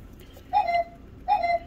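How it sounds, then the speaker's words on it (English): Two identical electronic chimes, each a short bright tone followed by a falling, slightly buzzing note, spaced under a second apart over faint room hum. "There's my doorbell again."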